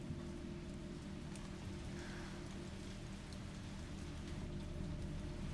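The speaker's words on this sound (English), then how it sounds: "There's a lot of rain and storm." Rain and a storm pour down in the video game Resident Evil 3, a constant dense patter of drops on surfaces with faint low rumbles beneath, quiet and unbroken by speech.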